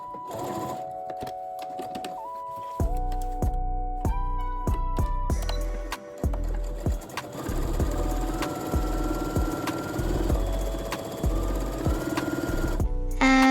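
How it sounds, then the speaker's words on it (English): A sewing machine edge stitches elastic-channel tape onto the sleeve of a babydoll summer blouse dress, running in repeated steady bursts of rapid mechanical stitching with short pauses between, close and fairly loud throughout. "Edge stitch along both sides of the tape to attach it securely into the sleeve."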